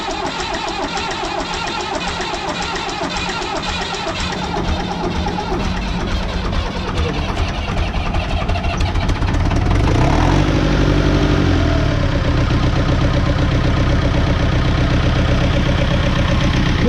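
A David Brown tractor engine catches and settles into a steady idle on a damp day, the loud, dense rumble rising slightly as it runs on evenly with no talk.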